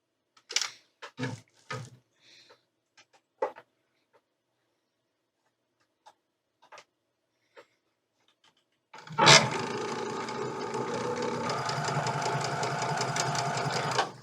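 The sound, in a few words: sewing machine sewing quilt pieces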